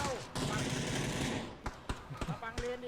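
PUBG gunfire: a sustained burst of rapid shots followed by scattered single cracks, fairly close, mixed with game effects and brief speech.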